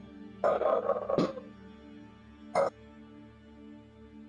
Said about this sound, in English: It's just dogs.